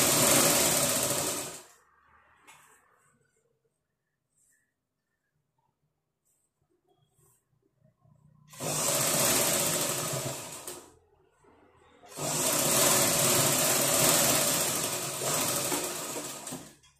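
A sewing machine stitches a folded blouse corner in three loud bursts, a short one at the start, then two longer runs of steady whirring separated by brief quiet pauses.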